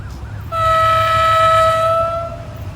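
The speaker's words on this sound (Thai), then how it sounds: "รถไฟขบวนสินค้า 725 นะครับ ท่าม่วงหัวตะเข้นะครับ" A freight train hauled by an Alsthom locomotive rumbles close by as a loud, steady two-tone horn sounds for about two seconds over the low roar.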